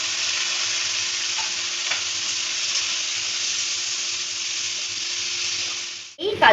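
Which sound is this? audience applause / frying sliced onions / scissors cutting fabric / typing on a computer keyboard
frying sliced onions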